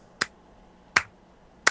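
Three sharp, isolated hand claps ring out, evenly spaced about three-quarters of a second apart, crisp and close with quiet between them.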